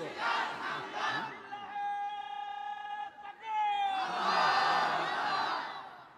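A large crowd shouting the takbir at an Islamic sermon, three loud unison bursts of chanting voices, the middle one a long sustained cry and the last swelling into a roaring shout.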